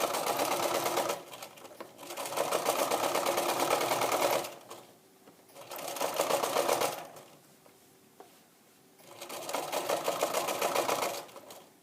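A sewing machine sews bias binding onto the bottom of a duffle bag in three loud runs of rapid stitching, each a few seconds long, separated by quieter pauses.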